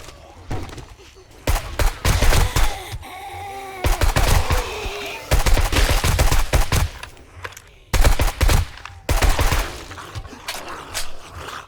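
Video game 7 Days to Die: bursts of rapid automatic gunfire fired at loot, loud and close, coming in several long volleys with short gaps between them.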